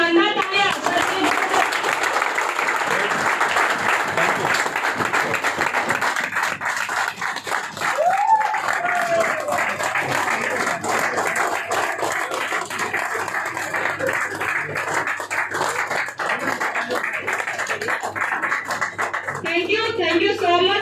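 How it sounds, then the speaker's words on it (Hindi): Sustained applause from an audience, many hands clapping densely for about twenty seconds, with a few voices faintly audible underneath. "एक बार शानदार तालियां सर से"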